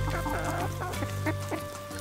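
Hens clucking close by around laid eggs, a busy overlapping chorus of short throaty clucks and calls that continues throughout.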